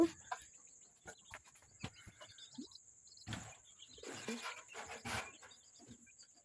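Small and large farm chickens cluck in short, scattered bursts, fairly faint and a little distant, with light clicks and shuffling between the calls.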